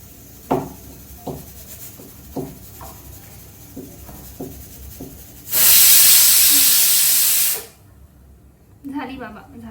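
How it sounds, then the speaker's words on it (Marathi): A pressure cooker whistle lets out one loud, sustained steam hiss lasting about two seconds, cutting off sharply. Before it, a voice talks with scattered light knocks and rubbing noises, and speech resumes faintly afterward. "कुकरची शिट्टी झाली"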